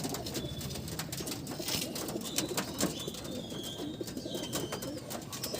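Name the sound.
pigeons cooing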